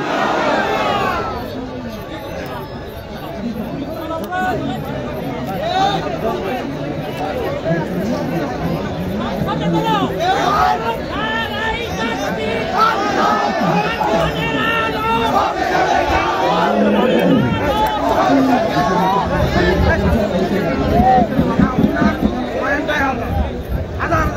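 A large crowd at a Bangla Islamic religious gathering (waz mahfil) chants back in unison in answer to a call for takbir, a loud, sustained mass of voices and shouting lasting throughout, swelling slightly toward the end.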